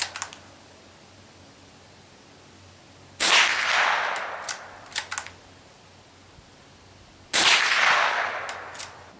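Two sharp reports from a Mossberg 802 Plinkster .22 bolt-action rifle ring out several seconds apart, each fading with a short echo, with softer metallic clicks from the bolt between shots.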